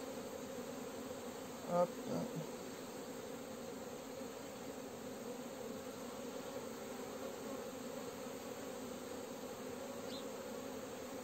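Honey bees buzzing at an apiary hive during an April inspection, a steady droning hum throughout with a brief louder knock near two seconds and a single short spoken word.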